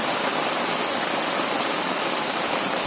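Heavy rain pouring down outside in a village during a storm, a dense, steady roar that stays loud and unbroken throughout, with no voices.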